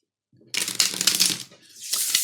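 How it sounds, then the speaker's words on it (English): Tarot cards being shuffled by hand, a close, crisp riffling burst that lasts about a second, then a pause and a second shorter shuffle. "I'll just give the cards one more shuffle"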